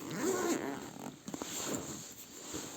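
A zipper on a small padded camera gear backpack is pulled open in a few short, uneven tugs, close and moderately loud against a quiet room.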